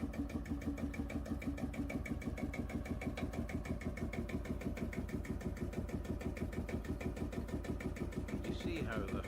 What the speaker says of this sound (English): You see how the whole tractor moves with the inertia of the single piston rushing up and down its length.